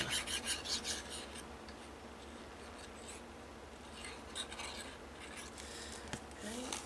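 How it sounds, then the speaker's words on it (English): A burnishing tool rubs over a folded paper box, giving dry, scraping strokes up close in a quick run, then softer rubbing and a few bright scratchy passes toward the end. "tuck it in, burnish it, and do the same to the last section here"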